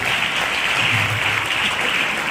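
A church congregation claps together in a dense, continuous burst of applause that stays loud and even for a couple of seconds, with no speech over it.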